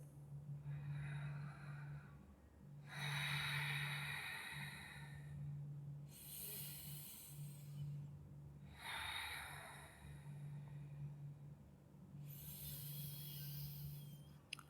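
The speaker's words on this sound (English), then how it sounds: "We take 3 more deep breaths" Slow, deep yoga breaths during a kneeling wrist stretch, about five audible inhale-exhale cycles, soft and airy over a low steady hum, quiet and close.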